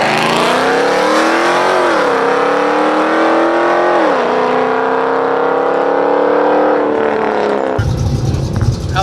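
A drag racing car at the strip accelerating hard, its loud engine note climbing in pitch, dropping at each gear shift and climbing again, ending with an abrupt cut to a rougher noise.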